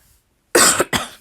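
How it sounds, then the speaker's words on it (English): Two sharp, loud coughs in quick succession break a quiet pause, close to the listener. "I'm going to cough."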